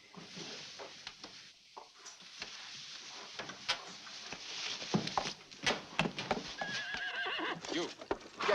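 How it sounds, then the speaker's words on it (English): A horse whinnies amid a scatter of hoof clip-clops on hard ground, with clatter and movement around it, fairly close and moderately loud with no speech. "Take my horse to the stable."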